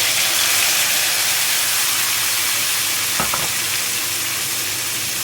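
Garlic and tomato sizzle steadily in a frying pan with a loud, even hiss. A brief clatter of stirring comes partway through.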